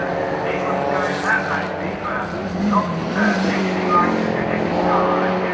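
Early Ford saloon race cars roar into Druids bend in a close pack, a steady engine drone with rising and falling revs, overlaid by a continuous commentary voice.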